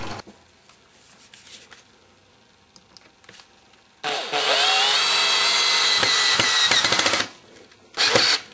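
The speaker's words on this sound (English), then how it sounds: "and then I drill the hole for the screw to go through." A power drill bores a screw hole through wood for a scrap-wood stool, a loud steady whirring burst lasting about three seconds, then a brief second burst after a pause, with quiet workshop handling noise beforehand.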